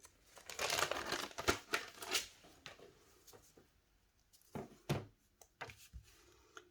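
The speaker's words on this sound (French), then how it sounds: "je prends mon rouleau adhésif découpe facile" An easy-tear adhesive roll of tape is handled up close, giving quiet crinkling and sharp ripping bursts in irregular clusters with pauses between.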